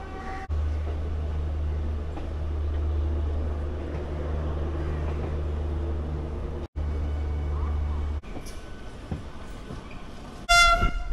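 Howrah–Puri Vande Bharat express train passing on a neighbouring track near Howrah station, heard from inside a moving local train as a steady loud low rumble, with a bright horn blast near the end.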